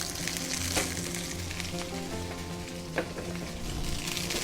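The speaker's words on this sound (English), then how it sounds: "it goes straight into the pan with the bacons and mushrooms" Al dente pasta frying in a pan with bacon and mushrooms for carbonara, a steady loud sizzle running throughout with a few brief clinks of stirring, no voices.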